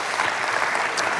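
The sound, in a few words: church congregation applause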